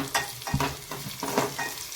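Crushed garlic and broken Byadagi chili frying in oil while being stirred, a close crackling sizzle broken by repeated scraping strokes of a spoon in the pan.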